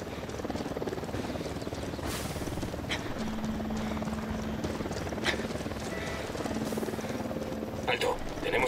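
In the video game Ghost Recon Wildlands, a helicopter comes down toward the ground, a continuous moderate rotor drone under game effects and scattered transient clicks, with brief tonal hums appearing along the way.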